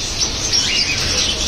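Budgerigars at a bird dealer's place chirping in a busy, continuous chatter of high twitters and tweets, fairly loud and close, with no talk.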